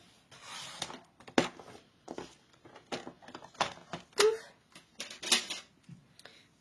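Paper cut quickly in half by hand for a craft swap, a series of close, fairly loud snips and rustles in an irregular rhythm, with a brief muffled voice sound between them.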